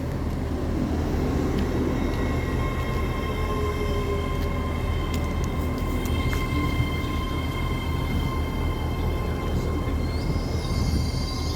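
A Class 801 train, unit 801-102, rolls into Grantham station, a steady low rumble and hum of the approaching train holding close and loud throughout with faint higher tones above.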